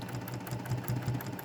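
A sewing machine stitches a quilt seam with a steady, close mechanical whir and low rhythmic pulsing, running continuously and alone.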